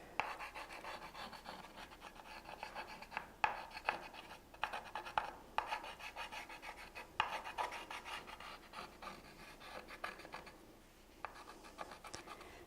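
Steady scratchy rubbing and rasping as paste fill is worked into the cut lines of a vinyl stencil on a chalkboard, soft and close, with repeated short strokes and occasional sharper scrapes, no talking.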